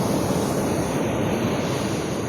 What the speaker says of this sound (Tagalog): Doon din sa banda ron talagang makikita mo yung waves, talagang nakakatakot.